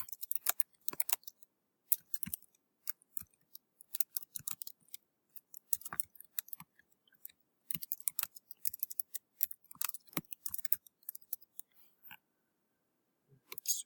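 Bursts of rapid, crisp keystrokes on a computer keyboard come in short irregular runs broken by brief pauses, close and fairly quiet, with no voices.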